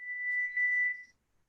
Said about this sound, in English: Oh, sorry, my buzzer's going off.